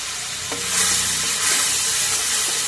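Masala paste and green chilies hit well-heated oil for a broad bean and tomato curry, producing a loud, continuous close sizzle with a few faint stirring knocks.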